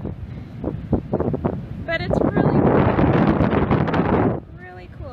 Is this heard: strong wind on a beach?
yes